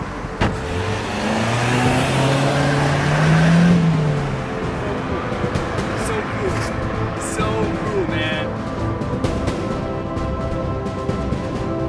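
Car engine running steadily while driving, with a broad low rumble throughout and a louder rising hum early on; voices and other noises are heard over it.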